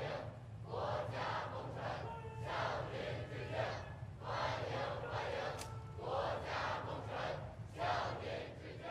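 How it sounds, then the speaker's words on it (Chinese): Teenagers outside the north gate of the Great Hall of the People cheer at a rally honouring COVID-19 contributors, a crowd shouting in repeated rhythmic bursts with short pauses between them. "人民大会堂北门外，青少年热情欢呼致意"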